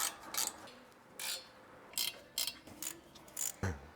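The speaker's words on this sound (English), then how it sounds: "Let's bolt the headers up and hope that nothing's fouling in there." Ratchet bolting up the headers on a BMW E30 M3 engine, heard as several short bursts of clicking spread unevenly across the clip, close by, with no talk.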